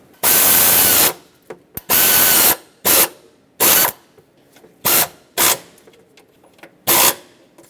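A power ratchet or driver snugs thermostat housing bolts on a 5.4L V8 Ford E-350 engine, with loud close bursts of buzzing rotation, about seven separate runs of varying length, separated by quiet gaps and small clicks.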